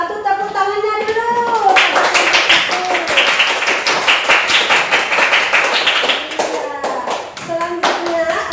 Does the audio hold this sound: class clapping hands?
yes